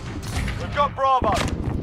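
Video game gunfire, a rapid rattle of close shots with sharp cracks and booms, cut across by a brief spoken callout in the middle.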